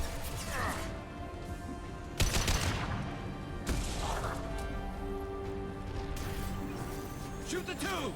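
Gunfire in the video game Mass Effect 2 comes as repeated bursts with sharp loud cracks near 2 and 4 seconds, layered over game music and effects while a player talks throughout.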